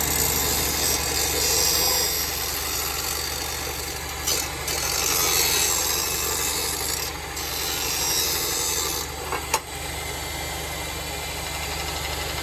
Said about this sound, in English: So let me turn the power on. Show you how nice this sands.